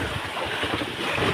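Rough sea waves churn under gusting wind of about 20 km/h as Typhoon Isang approaches a boat at sea. The noise is a loud, continuous, close rush of wind and water, with no talking.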